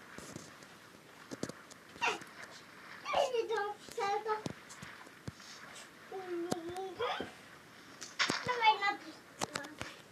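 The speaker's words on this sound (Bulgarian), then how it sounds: "Не искам да умират кученца." Dogs in the Minecraft video game whimper and yip in short, high-pitched bursts, with a voice talking over and between the sounds.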